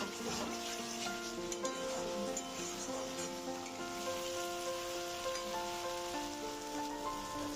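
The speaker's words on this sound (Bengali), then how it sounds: "মিডিয়াম টু লো ফ্লেমে মশলাটাকে আমি কষিয়ে নেব" Spice paste sizzling in oil over a medium-low flame for a raw banana kofta curry, a soft, continuous crackle close by, with faint clinks from stirring.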